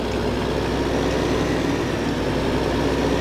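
A Claas Axion 950 tractor's turbocharged engine idles nearby with a steady, loud, low rumble and even mechanical churn throughout, alone with no voices.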